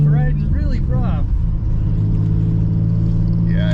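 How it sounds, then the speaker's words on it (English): Drift car riding rough with a suspected differential fault, a steady loud engine drone and road rumble heard from inside the cabin, with a voice talking over it at the start. "The owner complained it was riding really rough."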